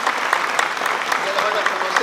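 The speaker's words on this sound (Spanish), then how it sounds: "un fuerte aplauso para la compañera Verónica" An audience applauding for speaker Verónica at a talk, a dense, steady patter of many hands clapping throughout, with some voices in the crowd.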